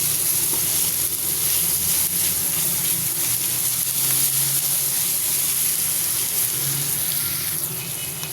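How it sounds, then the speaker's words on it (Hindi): Onions sautéing in a pan with garlic and ginger paste give a steady, close, even sizzle and hiss that runs unbroken throughout, with no talking. "प्याज को सिर्फ नरम ही करना है प्याज को। ये हल्का सा भूंजे ताकि लहसुन अदरक का कच्चापन जो है ना वो ख़त्म हो जाए।"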